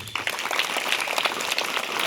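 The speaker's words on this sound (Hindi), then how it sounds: "एक बार ताली हो जाए आपके लिए" A roomful of people claps together in a short burst of dense, steady applause that fills the whole stretch, with no talking over it.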